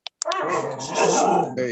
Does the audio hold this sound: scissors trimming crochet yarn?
no